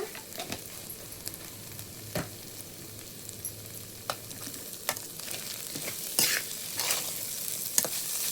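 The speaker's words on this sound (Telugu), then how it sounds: "మగ్గిపోయింది ఫ్రెండ్స్, వేగింది కూర." Curry frying in a pan, a steady close sizzle broken by several sharp scraping clicks of stirring that grow busier toward the end, with no talking.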